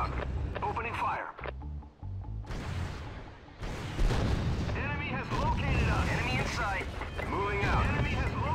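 Gunfire and explosions in the real-time strategy game Act of War, rumbling booms and rattling shots layered under game unit voice lines and chatter throughout.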